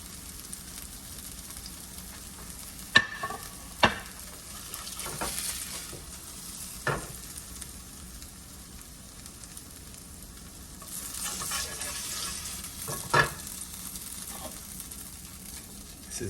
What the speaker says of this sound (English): Now they fry, I'm gonna take them out.